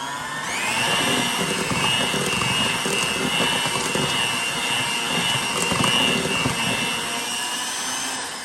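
An electric mixer blends orange juice into fruit cake cookie dough for traditional Christmas cookies, a steady loud whirring motor drone running continuously up close with no voices.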